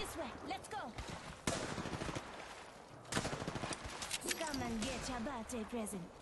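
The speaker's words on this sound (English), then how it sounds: "They're shooting at me." Enemy gunfire in Apex Legends crackles in scattered bursts with sharp cracks, mixed with game effects and a player talking over the shots.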